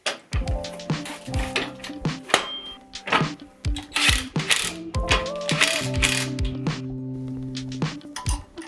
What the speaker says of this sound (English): One beautiful 3-ton hydraulic jack. It's lifting me up pretty well.